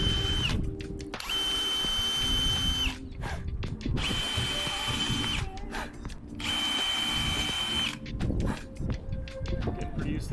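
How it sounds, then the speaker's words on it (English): A power drill bores holes into a Ford E250 van. Several loud, whining bursts of a few seconds each are separated by short pauses with handling noise. "Getting pretty used to drilling holes."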